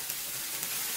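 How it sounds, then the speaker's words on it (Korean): Red chili peppers stir-frying in chili oil in a wok, a dense, steady hiss of sizzling with a couple of faint stirring taps, brief and close. "붉은 고추 넣어서 볶아줍니다."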